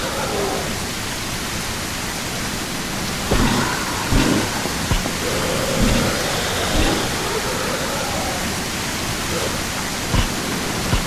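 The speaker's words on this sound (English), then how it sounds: "that rain is definitely really, really loud." Loud, heavy rain in the video game Surroundead pours steadily, a constant wash of noise with a few low rumbles and thuds scattered through it.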